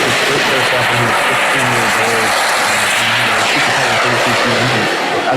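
An M339 aircraft at an air show, its engine roaring loud and steady throughout with a low rhythmic throb as it takes off.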